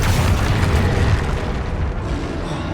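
Explosion from Bombarda and Confringo spells in the video game Hogwarts Legacy: a loud, deep booming blast with a rumbling tail that slowly fades over a few seconds.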